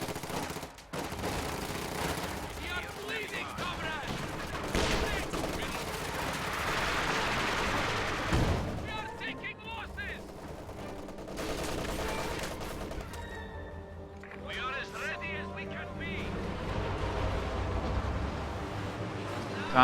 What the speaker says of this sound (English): Almost picks up some big kills with that Katyusha barrage.